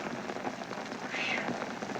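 Rain falls steadily around a pioneer-era camp, a soft, even hiss of drops on surfaces lasting the full moment, faint and continuous with no voices standing out.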